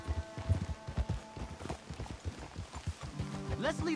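Hooves clip-clop in a quick, uneven rhythm as horses move along a road in Red Dead Redemption 2, close and prominent, with voices briefly over them and a rising musical tone near the end.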